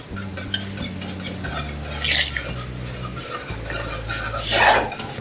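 Custard mixture stirred into milk for a Ramadan iftar doodh sharbat, a steady scraping stir of utensil against pot with a couple of louder clinks and rasps, close up, no talking.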